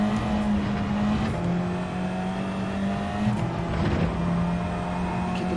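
A race car engine in the Gran Turismo 7 video game on the Deep Forest Reverse track, held at a loud steady pitch with gear shifts and pitch drops, continuous and close, no talk.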